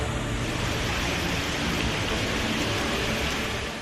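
Rain falls on Delhi as a dense, steady hiss that stays loud and even throughout, with no voices.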